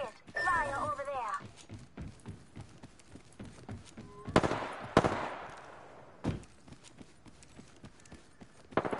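Gunfire in a PS4 video game rings out as a few sharp, loud cracks and short bursts amid a clatter of game effects, with a voice talking faintly underneath.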